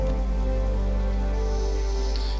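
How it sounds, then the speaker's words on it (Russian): Constant rain pattering in TES IV: Oblivion, a smooth, even wash of noise with no voices and no breaks, softening slightly toward the end. "Конечно, стоять мокнуть под дождем не очень правильно"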